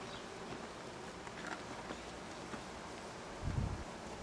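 Honey bees hum and buzz softly around an open hive during an inspection, a low continuous drone with a brief louder burst near the end and faint rustling, no talk.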